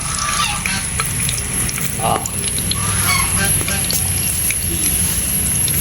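Mustard seeds pop and sizzle in hot oil with fenugreek seeds for a Kerala-style tempering, close and fairly loud, with irregular crackles and stirring clatter while a person talks.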